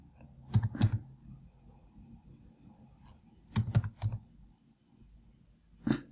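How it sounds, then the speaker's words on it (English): Keys clack on a computer keyboard in two quick bursts of typing, close and fairly quiet, with a single tap at the end and near silence in between. "so I'm going to type in drafting"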